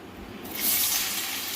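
Potato pieces slid into hot oil for Bengali aloo bhaja with poppy seeds and peanuts, a sudden loud sizzling hiss bursting in after a quiet moment and holding steady to the end, with no voices.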